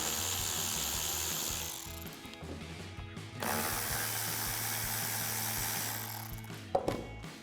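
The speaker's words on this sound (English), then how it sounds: "To loosen both of these hose clamps, we're going to be using a 7mm socket and a ratchet." A hand ratchet with a 7mm socket loosens hose clamps on an intercooler of a 2015 or later Ford F-150, giving close, continuous clicking with a brief pause partway through.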